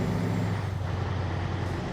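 A steady, loud low-pitched engine drone of a Mack Superliner heavy truck in a video game, constant and even throughout with a broadband roar above it.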